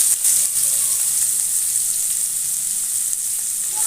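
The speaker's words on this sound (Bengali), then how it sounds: "এক্সট্রা তেল তুলে নেবার পর আমি ওই তেলের মধ্যে শুকনো লঙ্কা, তেজপাতা, জিরা ফোড়ন দিলাম।" Dried red chillies, bay leaf and cumin seeds sizzle in hot oil, a steady, bright hiss that carries evenly throughout with no talking over it.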